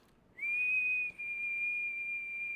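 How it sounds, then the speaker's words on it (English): A person whistles one long, clear, steady note, broken by a brief gap and then held again, close and fairly loud in an otherwise quiet room. "Please don't whistle"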